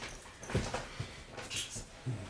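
A small dog whimpers and whines in short, soft cries for attention, several brief plaintive bursts close by in a quiet room, with no talking.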